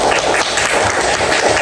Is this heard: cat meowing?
no